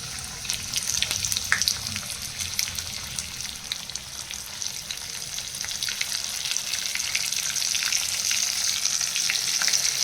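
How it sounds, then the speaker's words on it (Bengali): Hilsa fish coated in semolina and cornflour fries in hot oil, giving a loud, continuous close sizzle that holds steady throughout with faint crackles on top. "তো এবার আমরা এক এক করে মাছগুলোকে ভেজে নেব।"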